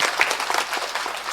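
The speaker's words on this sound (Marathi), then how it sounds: "यांच्यासाठी टाळ्या वाजव थोड्या." Audience applause at a devotional kirtan gathering, a dense steady patter of many hands clapping at moderate volume for about a second.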